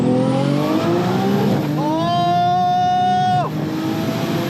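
A 700hp sequential-shifting Nissan R33 GT-R on high boost pulls hard: the engine note climbs in loud, close rising sweeps, broken by two quick gear shifts before revving up again.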